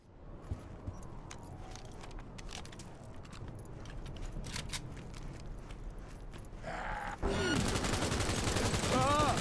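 Submachine gun fire in the action video game Cyberpunk 2077: rapid bursts of gunshots and mechanical clatter over a continuous game soundscape, growing denser and louder toward the end with a heavy rumbling layer.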